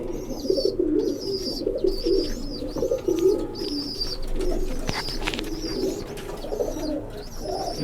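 Several pigeons of a pink-thread breed coo continuously in a loft, with overlapping low throaty calls and higher chirps close by and fairly loud, and no talking.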